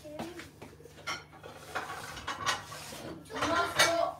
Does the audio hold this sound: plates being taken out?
yes